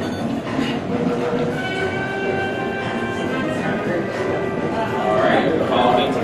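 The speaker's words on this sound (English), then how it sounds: "Alright, so I'm gonna be taking a north tram ride to the top." Gateway Arch tram car climbing to the top of the arch in St. Louis, a steady rumbling rail-car drone with faint whining tones throughout, people talking in the background.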